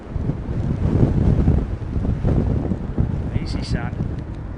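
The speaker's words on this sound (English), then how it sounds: "That's definitely picked up, mate, that wind." Strong gusting storm wind roars at Heathrow Airport, a loud broadband rumble that swells and eases across the clip, with a brief higher whine near the end.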